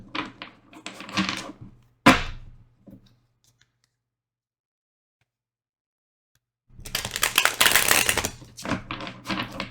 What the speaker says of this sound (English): Just really want to shuffle this deck, make sure it's shuffled good.